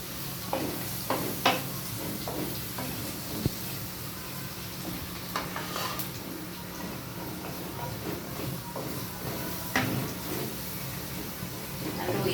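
Garlic sizzles steadily in oil in a pan as chicken caldereta is prepared, with a constant frying hiss, occasional stirring clatters, and someone talking throughout.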